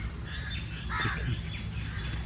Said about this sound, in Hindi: कितने खूबसूरत तोते।